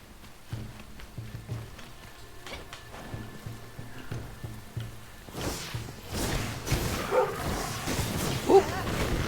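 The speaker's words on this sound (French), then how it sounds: "Un chien." A dog barks in Enshrouded, a survival action video game: a few short yips and growls spread over several seconds amid game ambience and whooshing combat sounds that grow louder toward the end.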